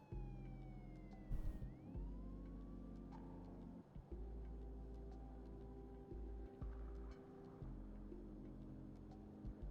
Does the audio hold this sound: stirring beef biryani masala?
no